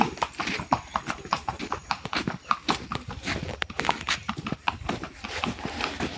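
Horse hooves clip-clop in a steady walking rhythm on a mountain trail, close and clear, with faint outdoor background noise.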